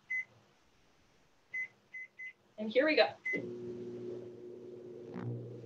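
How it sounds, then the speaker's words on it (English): A microwave oven with a metal spoon inside beeps several times as it is set, a voice speaks briefly, then the oven starts with a steady, close electric hum that runs on to the end. "All right, so the microwave is on, right?"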